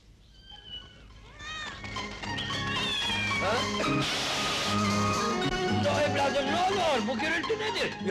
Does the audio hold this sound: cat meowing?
yes